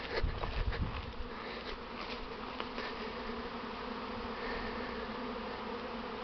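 Honey bees from a newly swarmed hive buzz steadily all around, a dense continuous drone with a few louder passes close by early on, no voices.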